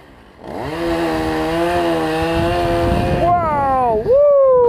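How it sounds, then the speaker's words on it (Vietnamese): A chainsaw roars steadily as it bites into a large bodhi tree trunk at a temple, engine pitch rising and revving near the end, loud and close. "anh cưa luôn một khúc thân rất là bự luôn"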